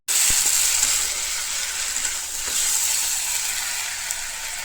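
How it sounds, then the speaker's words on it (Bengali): Onions and spices are sautéed in a pan with a loud, continuous sizzle that crackles steadily and close up from start to finish, with no voices. "অনেকক্ষণ ধরে কষানো হচ্ছে"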